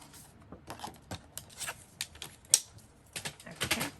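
Scissors cutting paper up close, heard as a quick irregular run of crisp snips and rustles, fairly quiet, with no talking.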